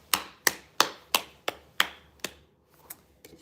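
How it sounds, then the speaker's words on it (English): A series of about six sharp hand claps, close and fairly loud, spaced roughly a third of a second apart, followed by a few fainter claps trailing off. "I'm letting you know I'm about to clap to clear the energy"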